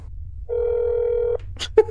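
A telephone in the horror game That's NOT my Neighbor sounds a long steady electronic dial tone, then quick dialing beeps and a short two-note ring, close and clear with no talking over it.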